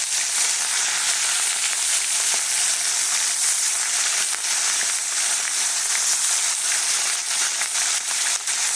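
Katla fish frying in hot oil, a steady dense sizzle with scattered sharp pops and crackles throughout, close and continuous with no talking.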